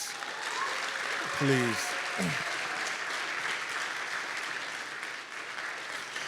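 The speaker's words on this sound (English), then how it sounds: "Can we give them a round of applause?" Audience applause at a Native education graduation celebration, a sustained broad clapping that continues under a brief spoken word and a short voiced sound early on.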